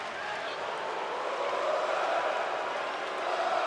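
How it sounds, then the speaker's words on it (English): Video game wrestling crowd in WWE 2K20 cheering as a steady, even roar of distant-sounding arena noise, holding at a constant level throughout. "The crowd go wild though."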